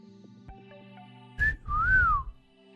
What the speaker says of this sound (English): You should listen to me when I whistle.